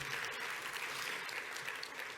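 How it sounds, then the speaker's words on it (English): Audience applause at an entrepreneurship conference's morning mainstage session, a dense steady wash of clapping filling the room at a strong, even level throughout. "So round of applause for our great team"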